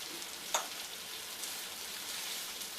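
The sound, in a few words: beef pieces frying in pan for beef stew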